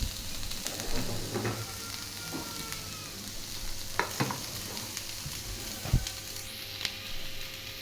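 Tomato chutney is stirred in a frying pan, with scraping spoon strokes and soft knocks over a continuous nearby sizzle and no talk.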